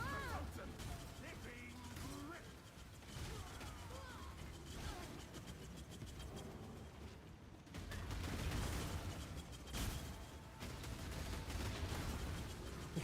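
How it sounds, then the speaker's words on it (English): Explosions in an online shooter video game boom and crackle in dense, continuous bursts with rattling mechanical and gunfire-like effects, a louder blast arriving midway, while a streamer talks over the game audio. "The explosions are so cool."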